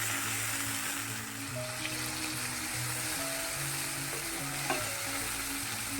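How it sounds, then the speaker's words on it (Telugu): Tomato pieces deep frying in hot oil, a steady close sizzle and bubbling with occasional spatula clinks and stirring, continuous and even throughout. "ఆయిల్ వీటెక్కిన తర్వాత మనం టమాటా ముక్కల్ని ఇవి బాగా డీప్ ఫ్రై చేసుకోవాలండి"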